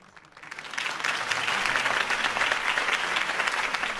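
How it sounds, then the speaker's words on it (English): A crowd in the Batman Telltale video game breaks into applause after a campaign speech, the clapping swelling quickly from quiet to a full, sustained ovation. "If only Mr. Wayne, my campaign's largest backer, could have heard that applause"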